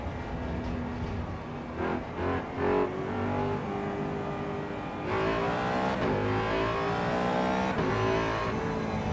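Race car engine in the AC Evo racing game, a steady loud drone with rising and falling revs through gear changes, climbing sharply around the middle and holding high, alone without talk.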